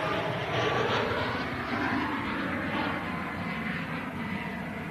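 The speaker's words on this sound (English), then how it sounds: "The biggest passenger aircraft on the planet being pushed back here at Manchester from stand 12." Emirates Airbus A380 pushed back from stand 12 at Manchester Airport, a steady loud broadband engine roar and whine that holds constant throughout, no voices.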